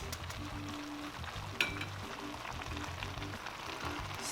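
Cabbage stew sizzles quietly in a pot while being stirred, a soft continuous frying crackle with a small clink of the utensil against the pot partway through.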